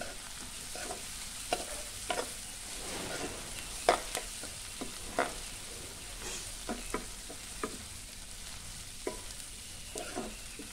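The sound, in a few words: green chillies and onion stir-fried in oil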